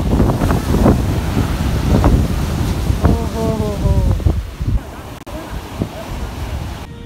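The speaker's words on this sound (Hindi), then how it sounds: "बहुत ज़्यादा ठंडा ठंडा हवा आ रहा है यहाँ पे" Cool night wind sweeps across Puri sea beach, a steady rushing roar on the microphone with distant surf beneath, easing somewhat near the end.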